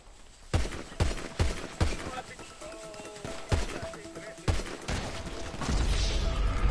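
Pistol gunfire in a video game, a series of sharp separate shots at irregular intervals, roughly eight cracks, with voices talking between and over them.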